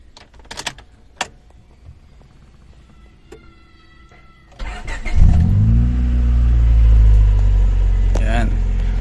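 A Honda Civic engine cranks and catches about halfway through, then settles into a steady loud low idle rumble after some quiet clicks and handling noises, with a voice briefly heard.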